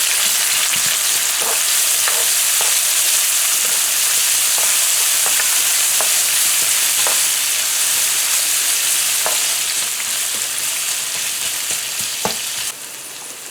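Chopped onions frying in hot oil in a pan, a loud continuous sizzle with scattered crackles and pops, easing slightly near the end.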